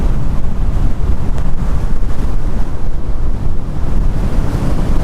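Strong gale-force wind blowing in off the ocean roars continuously and loudly across the microphone, with surf-like rushing and buffeting gusts throughout and no voices.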